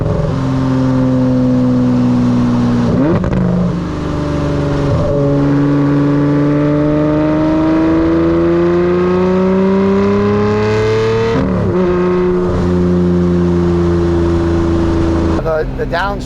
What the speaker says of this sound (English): Well, at least the downshifts are good. They're not bad. Yeah, it gives a nice little rev for you.